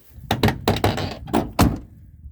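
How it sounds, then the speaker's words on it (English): Heavy door of a 1970s Ford Thunderbird, a series of solid thunks about six in two seconds as it shuts, loud and close. "these big old doors, they like to sag over time. So it's nice that you don't have to slam the door"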